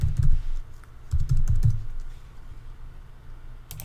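A computer keyboard clatters close up in two quick bursts of typing keystrokes, then a pause and a single late tap.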